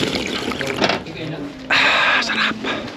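Water running from a drinking fountain at an outdoor airsoft field, a hissing stream that starts abruptly partway through, close by, with a voice speaking before it.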